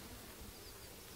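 Italian honey bees hum in a dense, steady, faint drone around an open hive during an inspection, with no voices.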